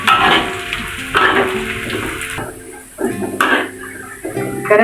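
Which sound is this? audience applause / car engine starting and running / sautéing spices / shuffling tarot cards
sautéing spices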